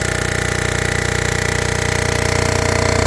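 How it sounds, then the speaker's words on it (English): A machine takes a very light cut across a cracked GM surface being repaired for a Prius, giving a loud, rapid, steady chattering drone with a fast regular pulse and no pauses, without any talk. "I'm going to take just a really light cut"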